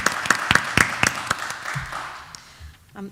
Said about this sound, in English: you guys definitely deserve another round of applause